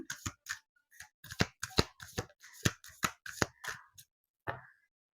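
Oracle cards shuffled by hand, a quick series of crisp, close riffling flicks and taps in an irregular rhythm, ending with a last soft slide after a short pause.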